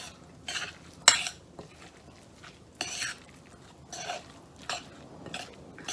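A utensil stirs salad dressing and apple pieces in a bowl, giving intermittent scraping and clinking strokes, irregularly spaced, close and moderately loud, with one sharper knock early on.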